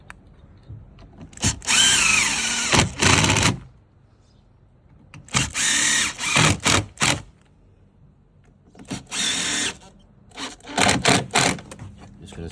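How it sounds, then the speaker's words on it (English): A power drill driving screws into a deck miter joint, with four loud whirring bursts separated by pauses, each burst stuttering as the screw seats. "we're going to screw it in"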